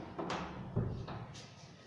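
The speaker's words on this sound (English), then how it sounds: "let me close the door." An indoor door is pushed shut, a few soft knocks and a dull thud close by in a quiet room, with no talking.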